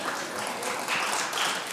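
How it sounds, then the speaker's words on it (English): An audience at a community summit breaks into steady applause, a dense wash of many hands clapping at a moderate distance with no one talking over it. "so give her a round of applause"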